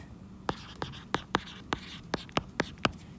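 A pen writes on paper close by, tapping out about a dozen short, sharp strokes in an uneven rhythm against a quiet room, with no talking.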